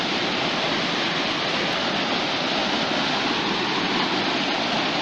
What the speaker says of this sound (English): here we are, just near a waterfall,